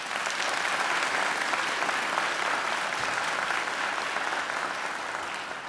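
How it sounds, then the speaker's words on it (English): Sustained, dense applause from a large audience at a university graduation ceremony, steady and loud throughout without any speech over it. "I think Angela deserves another great round of applause."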